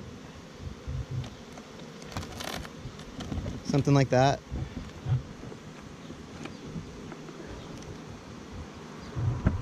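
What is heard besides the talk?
honey bees buzzing around a hive box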